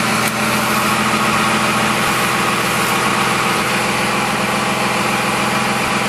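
Dodge Ram Cummins diesel idling steadily after a cold start in an unheated shop at about 44°F block temperature, a loud, close, constant engine drone with a low rumble throughout and no voices.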